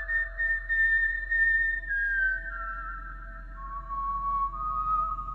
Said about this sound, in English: Then there's this weird whistling tune.